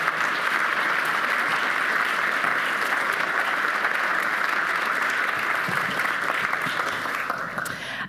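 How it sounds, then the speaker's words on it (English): Sustained audience applause at a startup demo day, a steady dense clapping crowd for the pitching teams that holds evenly throughout and tapers slightly at the end. "can I just ask for a round of applause for all of the teams who pitched today"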